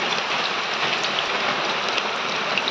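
Onions fry in hot oil at the start of a goat-meat curry, a continuous close crackle and hiss like steady rain with scattered sharper pops and no voices.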